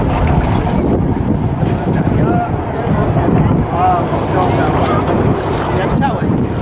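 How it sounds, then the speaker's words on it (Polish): Strong wind buffets the microphone in a constant roaring rush aboard a sailboat on the Vistula in Warsaw, with water sloshing and faint muffled voices underneath. "Wiatr jest."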